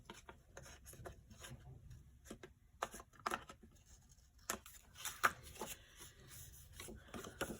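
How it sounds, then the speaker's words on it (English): A blade trimming a thin strip of black-inked paper edge on a handmade journal envelope, heard as soft close rasping and rubbing strokes in an irregular rhythm, with short pauses between cuts. "I'm going to trim this black line off just a little bit more."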